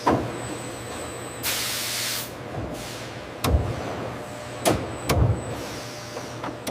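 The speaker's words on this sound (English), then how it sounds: "Six compressors delivering 8-bar pressure, powering every depositor nozzle, every wrapper jaw, and every pneumatic conveyor gate in the factory." Pneumatic air compressors in a large Cadbury chocolate factory, six units at 8-bar pressure feeding depositor nozzles, wrapper jaws and conveyor gates, give a sustained hiss with several sharp bursts and clunks over a steady machinery hum.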